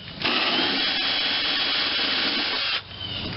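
A power drill driving a large tap into a bolt hole on a Vermeer BC625A wood chipper: one steady, close whirring run of about two and a half seconds with grinding friction, then it stops.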